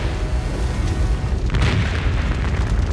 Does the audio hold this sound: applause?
no